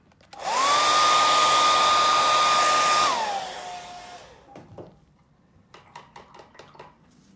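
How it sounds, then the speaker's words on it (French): A blow dryer blasts loudly and steadily at close range while drying waterproof fabric, then winds down, followed by a few light clattering and handling knocks. "je vais la sécher encore pour qu'on puisse aller mettre la lumière"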